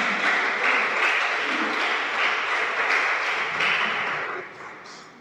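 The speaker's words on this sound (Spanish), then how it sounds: "aplauda al Señor" A church congregation applauds together during a sermon, a full, steady wash of clapping that holds for several seconds and then gradually fades.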